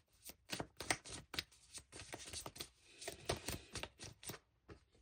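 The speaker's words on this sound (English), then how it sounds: "We're going to keep shuffling." Tarot cards are shuffled by hand in a quiet room, giving soft, irregular bursts of riffling and tapping that come one after another with no one talking.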